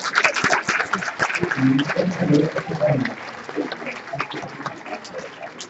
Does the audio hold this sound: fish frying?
no